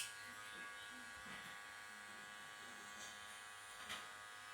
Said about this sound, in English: making sure to do concentrated clipper strokes